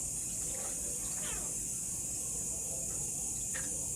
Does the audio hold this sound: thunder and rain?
no